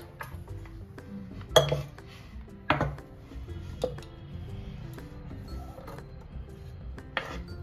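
Lemon pieces dropped into a clean bowl while making lemon pickle, giving sharp clinks and knocks against the bowl at irregular intervals, a few louder hits standing out over a quiet kitchen background.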